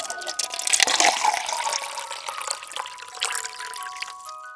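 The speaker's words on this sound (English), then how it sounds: "Let's pour water in the mug." Water pours into a mug in a continuous trickling splash that rises slightly as the mug fills, close and clear with no talking.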